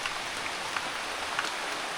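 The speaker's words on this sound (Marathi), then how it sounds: "जस्ट घरी पोचलो आणि पावसाने परत सुरुवात केली आहे बघा." Steady rain falls on a Konkan village, a soft even patter with scattered droplet taps and no voices.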